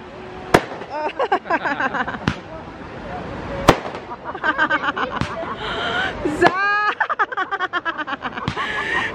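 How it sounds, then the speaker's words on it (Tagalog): Fireworks going off at an outdoor evening outing, several sharp bangs and crackling bursts with whistling trails spread through the clip, while a child and adults chatter nearby. "May pa-fireworks."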